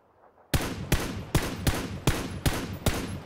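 Video game gunfire rings out as seven sharp, loud shots at a steady, evenly spaced pace, each with a short decaying tail, following a near-silent start.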